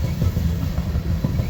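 Coal train hopper cars roll past on the line in the Midwest, a close, steady low rumble with faint rhythmic clunks from the wheels and no talking.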